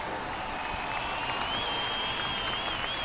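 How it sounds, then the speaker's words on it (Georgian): A concert audience at a New Year gala concert in Batumi gives a sustained ovation, dense and steady clapping filling the hall for the whole stretch with no pauses. "ოვაციები არ წყდება"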